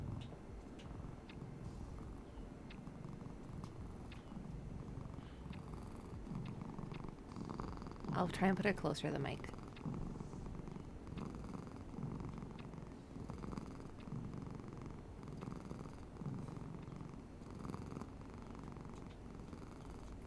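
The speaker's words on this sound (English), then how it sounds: "she is such a loud purr, and I'm glad that the mic picks it up" Bean, a pet cat held in someone's arms, purrs steadily and loudly right beside the microphone through the whole stretch, with a short, louder burst of voice partway through.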